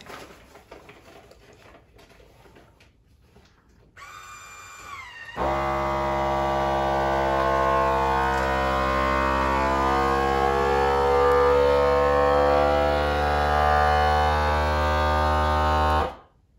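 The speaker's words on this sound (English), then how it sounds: "we're going to take it over to the vacuum sealer." A vacuum sealer works on a bag of 20 deer jerky sticks: a quiet lead-in, then the pump starts and settles into a loud, steady mechanical hum with a tonal whine that runs for about eleven seconds before cutting off abruptly.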